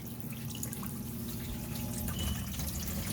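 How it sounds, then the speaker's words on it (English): Water from a draining dishwasher drips and trickles out of a sink faucet aerator, a soft steady wet patter close by over a low hum, with no talking. "the dishwasher is draining right now, but the water shouldn't be coming out through this aerator right here"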